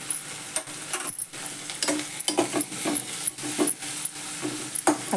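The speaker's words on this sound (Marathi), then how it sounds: "आता आपण ते आलं लसूणची पेस्ट केली ना ती घालते" Ginger-garlic paste and green chili paste sizzle in a pan for soya chili, with repeated close scraping and stirring strokes and small clinks over a constant frying hiss.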